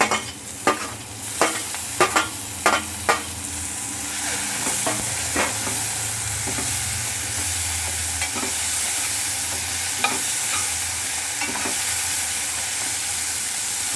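Steady sizzling of onions and tomatoes frying in a pan, with a few sharp stirring clinks and scrapes early on, then continuous hiss.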